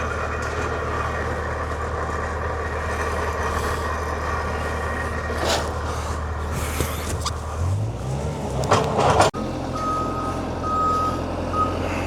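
A Bobcat skid loader backs up with repeated electronic reversing beeps over a steady diesel idle and truck rumble, loud and close, with the engine note rising briefly before cutting off near the end.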